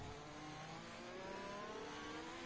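Onboard race car engine in a racing video game at a Belgian circuit, a steady loud high-revving drone with rising pitch, heard alone and close.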